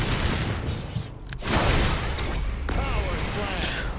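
Explosions in League of Legends, a dense run of booming blasts and bursts, with one sharp impact near the middle, layered over game effects and spoken commentary throughout.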